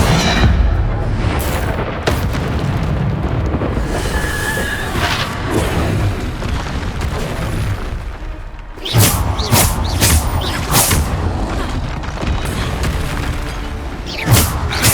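Bombarda spell explosions in Hogwarts Legacy, heard as loud booming blasts and thuds that come again and again over a dense, roaring combat din.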